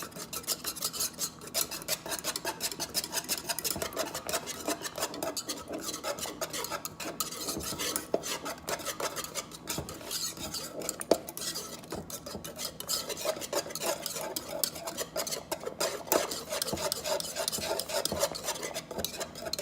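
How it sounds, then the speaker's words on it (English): A spoon stirs homemade caramel in a pot with continuous rasping scrapes against the bottom, steady and close, with no voices. "While still trying to stir to keep it from sticking."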